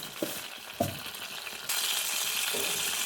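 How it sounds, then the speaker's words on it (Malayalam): Mustard seeds dropped into hot oil in a pan while making a Kerala fish curry. A couple of faint clinks come first, then a sudden, steady hissing sizzle starts and carries on evenly to the end, with no speech. "എണ്ണ ചൂടായി വരുമ്പോൾ കടുകിടുക ആവശ്യത്തിന് കടുക"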